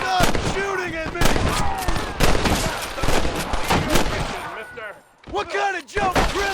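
Gunfire in the Western video game Red Dead Redemption: dense, loud shots crackle in rapid succession alongside shouting voices, with a short lull before more shots and yelling resume.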